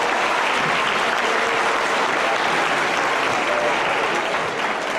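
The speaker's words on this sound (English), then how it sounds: "let's give both of them a round of applause, if you would." Sustained applause from the crowd at a girls basketball game between Dale and Silo, steady and dense clapping filling the gym throughout with faint crowd noise beneath.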